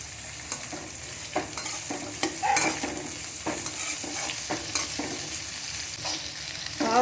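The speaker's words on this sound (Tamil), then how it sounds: "நல்லா பாவக்காய் எண்ணெயிலேயே நல்லா ஒரு 10 நிமிஷம் வதக்கணும்" Bitter gourd pieces sauté in oil in a pan, a soft continuous sizzle punctuated by irregular stirring clicks and scrapes of a spoon, close and moderately quiet with no talking.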